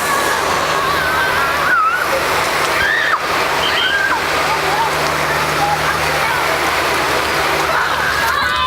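Water spraying and sheeting off a car panel freshly treated with a bead maker detailing product, a steady close rush of spray running unbroken with brief splashy bursts.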